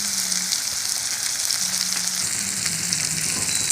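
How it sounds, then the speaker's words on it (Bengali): Onion fries in hot oil with dried chilli, bay leaf and nigella seeds, giving a close, even sizzle with a light crackle and no talking. "তারপরে পেঁয়াজটা আমি দিয়ে দিলাম তেলের উপরে।"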